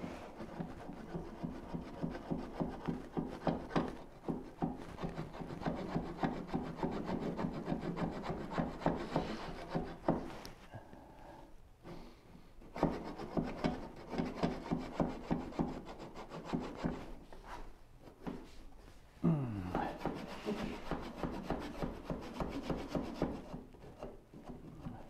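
A wood chisel pares and scrapes the walls of a cut in a workpiece held in a Moxon vise. Fairly quiet, continuous rasping strokes repeat in a steady rhythm, pausing briefly now and then, with no speech.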